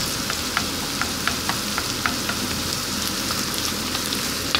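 Chopped onion sizzles steadily in a hot pan, a dense close crackle with regular soft scrapes and taps as a utensil stirs it, no voices.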